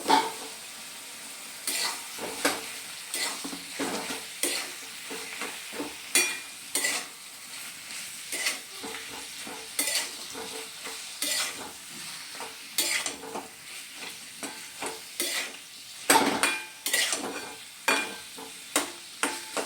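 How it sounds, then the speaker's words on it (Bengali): Wilted spinach and fried cauliflower are stirred in a pan with spices, making repeated scraping strokes of a spoon against the pan over a low sizzle, close and uneven in rhythm. "এটা ভালোভাবে আমি নেড়ে দেবো যাতে সমস্ত মশলা কপির মধ্যে ঢোকে।"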